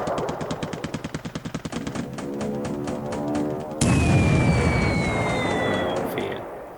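A torpedo strike explodes in a War in the Pacific naval battle, December 1941, heard after a run of rapid rhythmic booms as one loud, sustained blast with a rumbling tail and faint high whistling tones.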